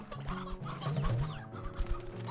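A flock of game chickens clucks steadily on a virtual farm, many overlapping close calls forming a constant, busy chatter with no voices.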